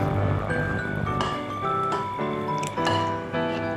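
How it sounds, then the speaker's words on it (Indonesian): Water splashing and dripping as boiled noodles are drained into a bowl in a home kitchen, a series of close wet splashes and trickles with short pauses between pours. "Lalu saya tiriskan dulu ke dalam mangkok."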